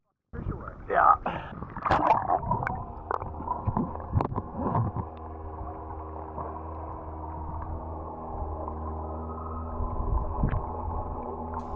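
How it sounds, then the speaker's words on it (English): A low, steady motor drone hums underwater, with bubbly gurgles and splashes early on before the engine tone settles in. "you can hear how loud this motor is underwater"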